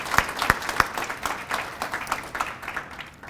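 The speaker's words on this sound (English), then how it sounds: "Let's give her another round of applause." Audience applause at a college alumni awards ceremony, a fairly faint, thin round of clapping from a modest crowd in a hall, with a few sharp individual claps standing out and fading toward the end.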